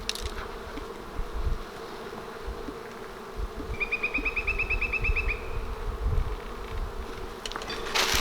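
Honeybees buzz steadily around an open hive, a dense droning hum with a few louder individual bees passing close by.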